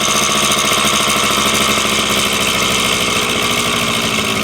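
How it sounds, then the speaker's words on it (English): A Suzuki DS80 80cc two-stroke dirt bike engine runs steadily with a carburetor under adjustment, a loud, continuous buzzing drone held close up with no pauses and no talking. "it seems to run fine"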